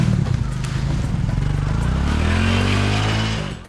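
A motorcycle labors up a steep, rocky, slippery rural road in Cianjur, its engine note rising in pitch and straining steadily close by before cutting off at the end.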